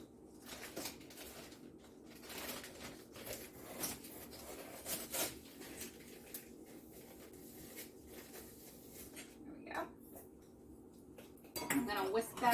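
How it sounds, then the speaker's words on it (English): A whisk clinks and scrapes steadily against a bowl, working sugar into egg yolks for eggnog. The rapid metallic rattling carries on throughout, close and moderately loud. "I'm going to whisk that all in."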